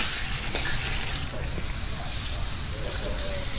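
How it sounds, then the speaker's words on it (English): Water spraying onto a Dodge Durango's factory rims as the wheels are rinsed outdoors in cold weather, a steady hissing gush that runs continuously at close range with little change in level. "I'm gonna wash these wheels off real quick before I start on them."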